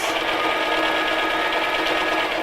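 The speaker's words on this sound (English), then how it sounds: "put my foot down, my needle down, and sew right round the top, over the handles" A sewing machine runs steadily at constant speed, stitching around the top edge of a fabric tote bag and over its handles, a close, even mechanical whir with no pauses.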